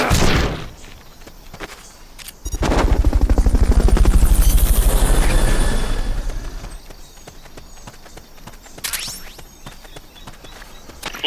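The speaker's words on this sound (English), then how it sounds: "Fulton recovery subject confirmed onboard helicopter." Fulton recovery helicopter in Metal Gear Solid: Peace Walker, a loud whirring rotor roar that swells over a few seconds and then fades, with game effects and footfalls around it.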